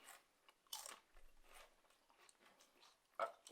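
Potato chips crunched during a tasting, a few quiet close bites and chewing crunches in a hushed room, with brief rustles.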